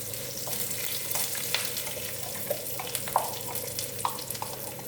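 Curry leaves crackle and fry in hot oil with a constant, close sizzle and occasional light pops and stirring taps, no voices over it.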